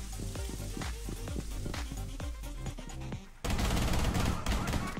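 Ela's guns fire in the Rainbow Six Siege video game, rapid close automatic bursts with sharp regular reports, then a sudden loud hissing wash takes over for the final seconds.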